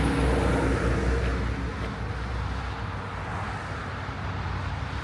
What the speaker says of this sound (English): You kind of hear how busy this traffic is.